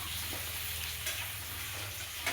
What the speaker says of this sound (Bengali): কড়াই গরম করে পাঁচফোড়ন দিয়ে আলুগুলো দিয়ে দিচ্ছে। আলুগুলো লাল লাল করে ভেজে নিয়ে